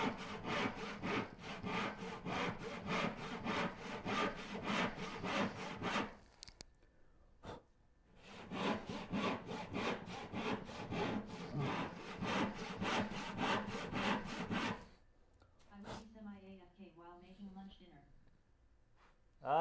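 A hand saw cuts wood for a Shaker Enfield cupboard in quick, steady rasping strokes, close and loud, in two long runs separated by a short pause, with brief softer handling noises at the end.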